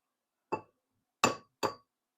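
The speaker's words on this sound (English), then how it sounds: "Next, we're going to need some eggs. So we're going to crack those." Eggs are cracked for a batter for breaded fish, with three separate sharp, close knocks against a hard edge that each end in a brief clinking ring, spaced apart in quiet.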